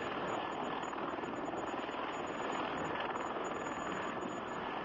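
A tilt rotor aircraft such as the V-22 Osprey flies past with a continuous, dense rotor and engine roar, steady and loud throughout without pause.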